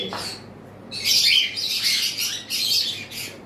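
Pet cockatiels kept in bonded pairs give loud, shrill squawks and chirps in repeated bursts close by, with no talking.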